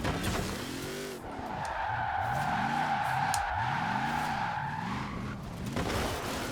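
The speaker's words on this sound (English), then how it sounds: "I'm just here flooring it in second gear and it's just dying." A Hot Wheels Dually truck in Forza Horizon 4, floored in second gear and bogging down, gives a loud, strained engine drone with wavering revs and tire squeal, close and continuous with no talking.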